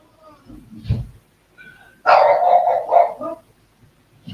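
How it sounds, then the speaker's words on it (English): A dog lets out a loud, close bark lasting about a second, then a shorter yelp, after an earlier dull thump in an otherwise quiet room. "You have to excuse the dog voicing its opinion."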